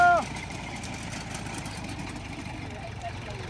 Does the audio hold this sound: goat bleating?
no